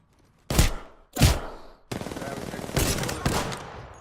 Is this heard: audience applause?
no